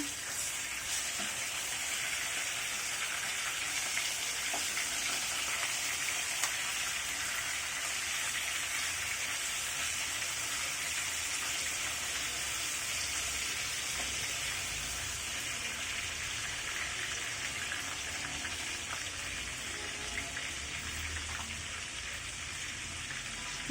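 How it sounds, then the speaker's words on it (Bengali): Pieces of broiler chicken fry in a pan for a roast, giving a steady, dense, hiss-like sizzle that continues evenly throughout without pause. "তিন থেকে চার মিনিট এক পাশ ফ্রাই করে নেব"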